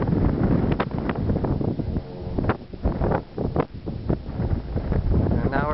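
Strong gusting wind buffets the microphone on Jackass Pass in Wyoming's Wind River Range, loud, uneven rumbling bursts that rise and fall throughout.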